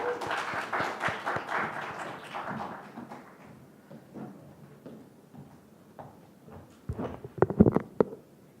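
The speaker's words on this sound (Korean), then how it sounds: "조영민 학생의 연설을 박수로 맞이하겠습니다." Scattered applause from a small audience at a youth speech contest greets a middle-school student speaker: a few seconds of moderate clapping that thins out, then isolated footsteps and thumps close by.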